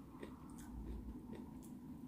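Someone chews a crunchy rice-based village snack up close, a few faint crisp bites and crunches over a quiet background.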